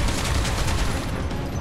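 Rapid gunfire from the Final Fantasy VII demo, a dense burst of shots rattling continuously for under two seconds, loud and close with no voices over it.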